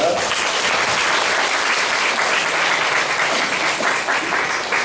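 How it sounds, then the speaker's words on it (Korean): A church congregation breaks into applause to welcome a newcomer, a young member's high-school friend, with dense, steady clapping from many hands filling the room at a constant loudness for about five seconds. "일어나기 부끄러우니까 박수로 좀 환영하겠습니다."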